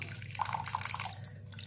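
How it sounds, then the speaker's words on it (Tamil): A little water poured into thick dosa batter in a kitchen, a soft continuous trickle with light dripping and splashing, close and steady with low background hum. "இப்போ கெட்டியாக இருக்குது, கொஞ்சமாக தண்ணி ஊற்றிக்கிடுவோம்."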